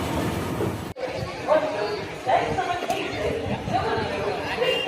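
Crowd murmur fills platform 3 of Thanjavur Junction railway station, with several voices chattering nearby and a sharp bang early on, over a steady background hum.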